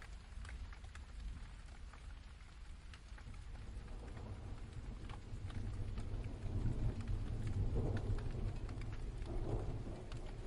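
Steady rain pours on surfaces, a dense even hiss, while low thunder rumbles beneath it and swells a little louder toward the end; no voices.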